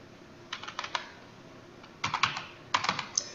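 Fingers type on a computer keyboard in short bursts of crisp, close clicks separated by brief pauses, with no talking.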